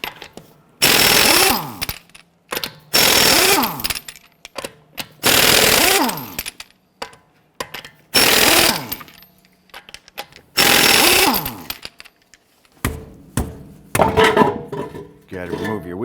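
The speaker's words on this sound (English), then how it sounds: "let's loosen and remove our lug nuts" Lug nuts on a 2009-2015 Honda Pilot front wheel are loosened and removed with a 22mm socket on a power tool, giving five loud bursts of rapid whirring rattle separated by short pauses, followed by lighter clinks and handling noises.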